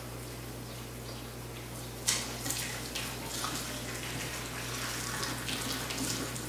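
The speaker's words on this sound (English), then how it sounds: "We're going to empty out our water" Pasta cooking water is poured out into a kitchen sink, starting with a sudden splash and settling into a steady rushing drain over a constant low hum, with no talking.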